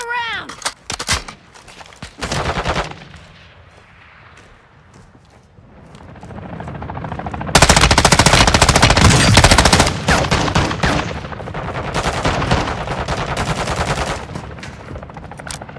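Heavy gunfire rattles through a firefight in Call of Duty DMZ, with loud sustained automatic bursts and dense volleys after a quieter stretch, while radio-style voices talk around it.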